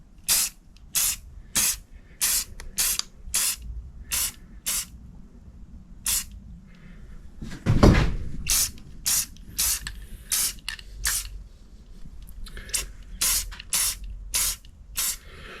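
Spray paint is applied in short bursts to the dashboard of a 1968 Pontiac LeMans in a cold workshop: about two dozen close, sharp hisses in an uneven rhythm, with one longer rattling burst midway.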